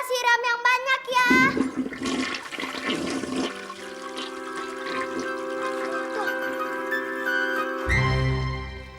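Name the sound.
toilet flushing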